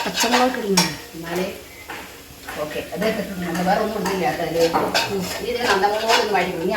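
Masala sautéed in a pan, with continuous stirring and the scrape of a utensil on metal and a light sizzle running underneath someone talking throughout.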